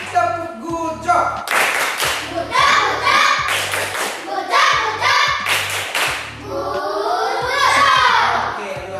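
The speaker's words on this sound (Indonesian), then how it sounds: "Tepuk tangan buat kita semua dulu." Schoolchildren in a classroom clap together in repeated bursts of applause, with a loud group of children's voices cheering and talking between and over the claps, and a low electrical hum underneath.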